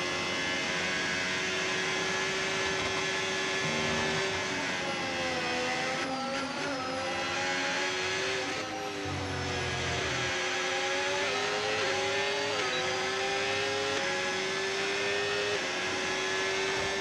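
Formula 1 racing cars roar in a video game, with a loud, sustained engine whine that rises and falls in pitch as the car accelerates and shifts. No one speaks.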